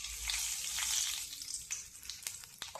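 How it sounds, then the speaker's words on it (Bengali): Nigella seeds sizzle in hot oil, a steady bright frying hiss close up with a few sharp crackles and pops near the end, no voices. "কালো জিরা ফোড়নে"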